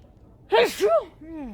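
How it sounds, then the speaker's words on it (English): A single close sneeze from a woman, a sharp burst with a brief voiced tail, followed by a short breathy exhale. "I don't even know why I sneeze"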